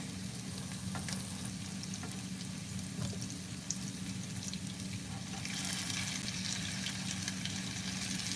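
Potato patties frying steadily in a pan with a continuous close sizzle, a few light clatters as they are turned, the sizzle brightening toward the end; no one speaks.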